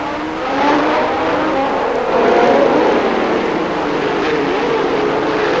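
1978 Formula One race cars at the Long Beach street circuit, engines roaring loudly past the first corner in a continuous, swelling howl, with no voices.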